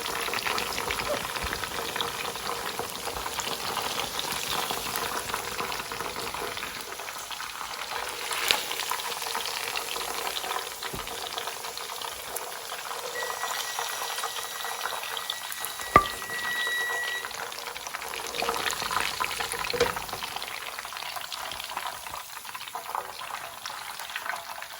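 Chicken drumsticks fry in hot oil for a second, double-fry pass, giving a steady close sizzle and crackle with occasional clinks and a sharp tap midway.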